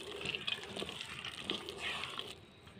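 Lukewarm water pours into a flour and dry fruit dough, a close, continuous trickling and splashing that fades near the end.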